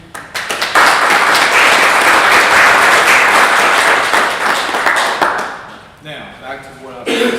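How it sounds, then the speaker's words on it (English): Audience at a county commission meeting applauds the finance department: a few scattered claps swell into sustained, loud clapping that fades after several seconds, followed by someone speaking. "a round of applause to the finance department is a job well done this past year"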